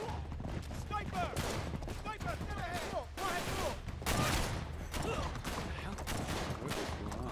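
Rapid bursts of gunfire from the PS4 game Uncharted 3: Drake's Deception, loud and continuous with repeated volleys, mixed with a person talking over the shots.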